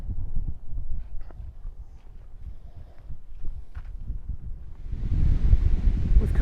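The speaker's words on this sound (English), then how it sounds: "Quite exposed up here and windy for obvious reasons." Low wind rumbles and buffets the microphone outdoors on an exposed coast near windmills in Fuerteventura, gusting harder and louder toward the end, with faint rustling in between.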